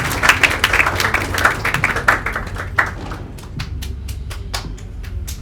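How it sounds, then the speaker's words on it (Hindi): An audience at a Diwali celebration claps to welcome a speaker to the stage: brisk, fairly close rhythmic clapping that thins toward the end into scattered separate claps. "तालियों के साथ स्वागत करेंगे कोमल बहन का"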